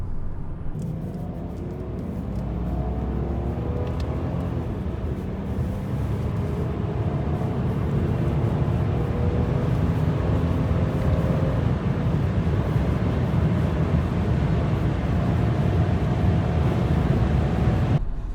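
A car accelerating hard on an open road with no speed limit on the Isle of Man, heard from inside as a loud, steady engine roar with rising tones over a constant rumble.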